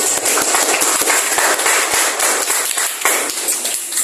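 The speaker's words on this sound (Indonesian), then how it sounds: "Kasih aplaus untuk teman-teman." Classroom applause for classmates, with many hands clapping together in a loud, steady, dense patter that fills the whole moment close by.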